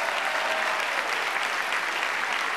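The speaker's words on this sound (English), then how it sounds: "Give her a big round of applause" At a stand-up comedy show, an audience gives a volunteer a big round of applause. The clapping is dense and even, loud and continuous, with no voices rising above it.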